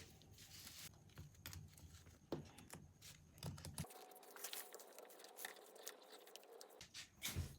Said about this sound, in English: I'll just get my scissors and cut this off.